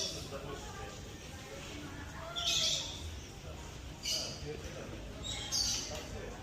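Faint, scattered bird calls chirp three times above a steady outdoor background hiss in a small village in Spain.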